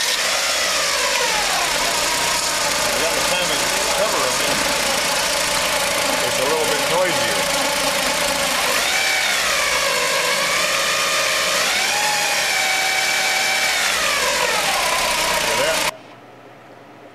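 A car engine runs steadily with rising and falling whining, squealing tones from an overtightened toothed timing belt over its hum, a voice talking alongside, before cutting off abruptly near the end.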